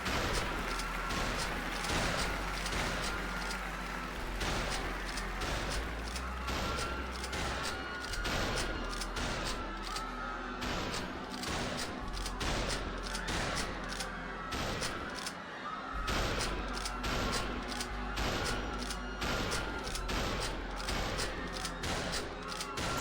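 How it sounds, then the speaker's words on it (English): Shotgun blasts ring out in a survival phase of a game-show-themed murder video game, dense repeated booming shots with crashes scattered throughout, loud and continuous over about twenty seconds. "in this last phase, you'll be armed with a shotgun and 30 seconds to survive."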